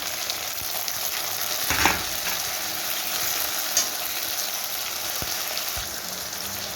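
Green chilies and leaves frying in hot oil, a dense steady sizzle with scraping stirs and a couple of sharp utensil knocks against the pan, no voices.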